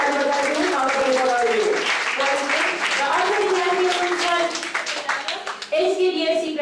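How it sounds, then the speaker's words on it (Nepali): An audience claps at a Nepalese community's new-graduates celebration in Hong Kong, with sustained applause running under a loud announcer's voice speaking over a microphone. "जोरदार ताली बजाइदिनुहोस्।"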